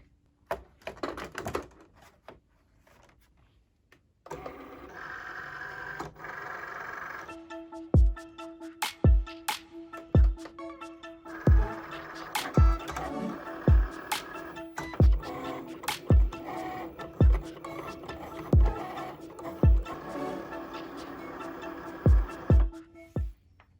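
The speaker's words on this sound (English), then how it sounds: "And first I'm going to cut some just plain cardstock." Cricut cutting machine fitted with a THANMAO blade working through plain cardstock, a quiet motor whir broken by a steady series of sharp ticks and clicks as the carriage moves, close up with no talking.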